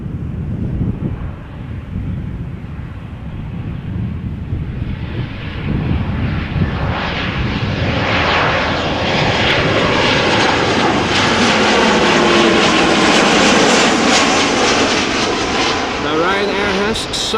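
An airliner touching down on runway 06 at Amsterdam Schiphol Airport builds from a distant rumble into a loud, close engine roar with wind noise, swelling and holding near its peak as a voice talks over it.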